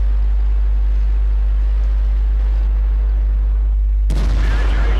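A tank cannon hit in the World of Tanks video game, with a KV-3 taking fire from a Panzer VM10 that sets it ablaze: steady low engine rumble and then one sudden loud blast near the end.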